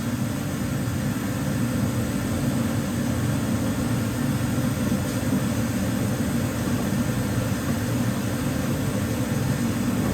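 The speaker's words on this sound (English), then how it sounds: "I'm going to go ahead and let this heater run for a little bit" A steady, loud whooshing hum of a shop heater blowing continuously, with no change over time.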